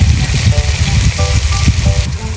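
Squid sizzles loudly in a pan with garlic and onion, a steady close crackle of frying with a few faint tonal sounds in the background.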